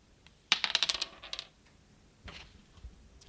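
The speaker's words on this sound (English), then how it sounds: "And I'll roll the dice now." Dice tossed onto a hard surface for a game: a sharp first strike followed by a quick string of rattling, bouncing clicks that settles within a second, then a couple of softer knocks, close and otherwise quiet.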